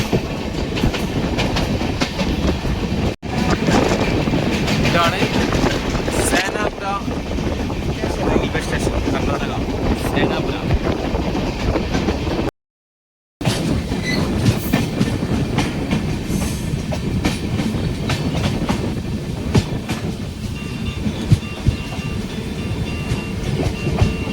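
A train runs along the Konkan Railway on the Maharashtra to Kerala route, giving a continuous loud rumble and clickety-clack with wind buffeting and a short dropout. Someone talks over it at times.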